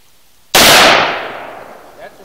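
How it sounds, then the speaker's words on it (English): A single rifle shot from .223 55-grain Winchester ammunition fired while sighting in on jugs at a range, a loud sharp crack up close followed by a decaying ringing tail. "He's going to be shooting some 223 55 grain Winchester, and he's going to sight it in on the jugs"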